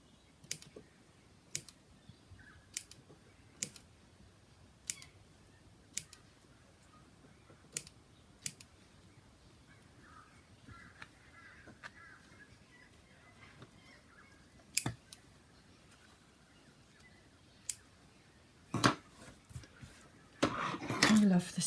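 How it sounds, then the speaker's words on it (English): Scissors snipping sewing threads between buttons on doll clothes, a series of sharp, quiet clicks spaced irregularly over a faint background, with brief rustling handling noise toward the end. "Snip your threads between each button."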